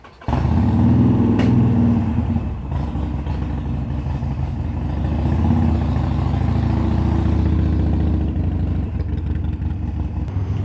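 A motorcycle engine drones steadily while riding, a loud, low rumble with slight shifts in pitch and wind noise throughout.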